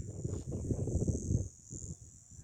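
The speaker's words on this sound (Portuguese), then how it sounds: "Só escutando mais os grilos aqui, os pássaros ainda cantando." Crickets on a rural homestead at night, a faint continuous high chirring drone running steadily through the whole moment, with low rustling sounds underneath.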